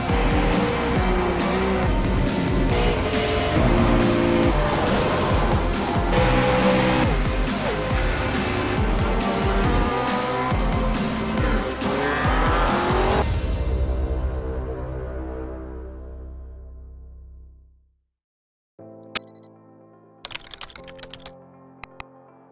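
Simulated race cars in the iRacing video game roar together in a dense, continuous engine drone that fades away to near silence. Scattered clicks and short electronic blips follow.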